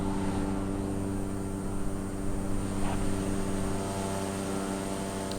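A steady, droning engine hum from an aircraft in stable flight, loud and continuous with a constant tonal buzz and no talk.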